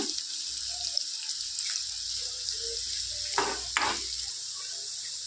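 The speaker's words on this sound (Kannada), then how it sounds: "ಮೀಡಿಯಮ್ ಫ್ಲೇಮಲ್ಲಿ ಚೆನ್ನಾಗಿ ಫ್ರೈ ಮಾಡಿಕೊಂಡ್ರೆ ಈರುಳ್ಳಿ ಸ್ವಲ್ಪ ಗೋಲ್ಡನ್ ಬ್ರೌನ್ ಕಲರ್ ಬರೋವರೆಗೂ ಫ್ರೈ ಮಾಡ್ಕೊಂಡು ಬಿಡೋಣ" Onions frying on medium flame in a pan for egg curry, a steady close hiss and sizzle with a couple of brief stirring scrapes, no voices.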